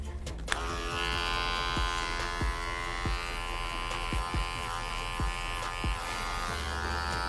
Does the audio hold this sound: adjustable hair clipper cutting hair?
yes